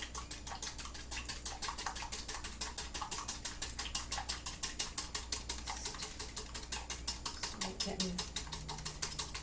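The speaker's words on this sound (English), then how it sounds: "I'm just going to whisk that till it's frothy" A cake mixture is whisked briskly in a bowl until frothy, a rapid, even, close ticking rhythm that runs throughout with some faint voice in the background.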